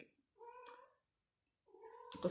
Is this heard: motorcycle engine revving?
no